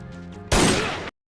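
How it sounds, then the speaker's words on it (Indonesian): Rubber pistol gunfire in an anime bursts out as a single loud, harsh blast lasting about half a second, cutting off abruptly after a brief quieter lead-in. "Dengan pistol karetnya, dia bisa menyapu bersih yang ada di situ."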